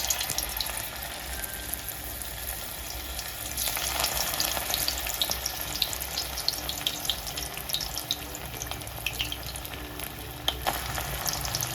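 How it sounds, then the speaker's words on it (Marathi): Colocasia leaf vadi, cut straight from the raw roll without steaming, fries in hot oil with a steady crackling sizzle, small pops scattered across the whole stretch and no talking. "आपण न शिजवताच डायरेक्ट चिरून घेतोय आणि डायरेक्ट तेलात टाकून द्यायचं."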